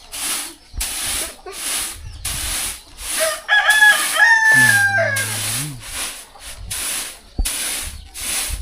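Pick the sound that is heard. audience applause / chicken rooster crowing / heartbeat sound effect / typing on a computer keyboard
chicken rooster crowing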